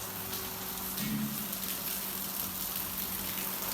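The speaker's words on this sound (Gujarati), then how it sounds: "ઓહો ભાઈ ભાઈ ફૂલ વરસાદ આવ્યો" Heavy rain pours down in a steady, dense hiss that holds evenly from start to finish, loud and close, with no voices.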